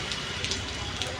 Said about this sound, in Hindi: अभी बारिश का दौर चला हुआ है